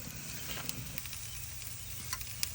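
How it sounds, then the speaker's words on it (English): Garlic butter sizzles quietly on grilled trigger fish fillets, a steady low crackle with a few sharp pops. "We're gonna go ahead and throw a little bit of this garlic butter on top here"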